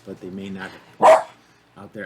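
A pet dog gives a single loud bark in the background between stretches of someone talking, with a fan's hum also present in the room.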